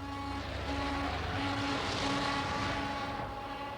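Nuclear bomber aircraft scrambling during the Cold War around 1980 fill the air with a loud, sustained engine roar. A pulsing low hum repeats every half second or so, and no voices are heard.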